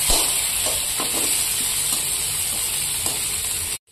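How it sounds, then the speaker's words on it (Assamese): Mashed potatoes fry in a hot pan, giving a steady close sizzle with occasional soft stirring scrapes, running evenly for a few seconds before cutting off abruptly. "দি অকণমান সময় ভাজি লম"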